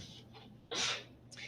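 Someone sneezes once in a quiet room during a physiology lecture: a sharp, breathy burst in the middle, with soft breaths and murmurs around it.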